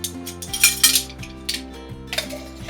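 Baking powder being leveled in a metal measuring spoon with a scraper while making cupcakes; a few close, light metallic scrapes and clinks in quick succession, with no talking.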